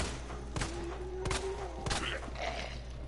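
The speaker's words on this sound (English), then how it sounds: "So I can see where that zombie is, so I can shoot him in his face." Three loud, sharp gunshots ring out at a zombie in Resident Evil 2, spaced about a second apart over a steady low game hum, with faint trailing clatter afterward.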